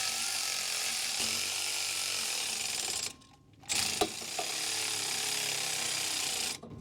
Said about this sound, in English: And then just tighten the bolt.